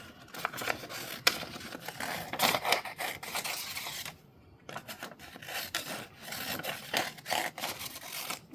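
Cured UV resin and paper are scraped with a tool, giving close, repeated rough rasping strokes in uneven bursts with a short pause midway.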